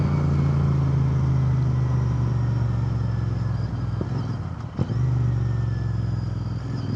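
A Royal Enfield Interceptor 650 twin-cylinder motorcycle idling through its exhaust fitted with silent baffles, a steady low burbling drone, close and even, dipping briefly around the middle, with no talking.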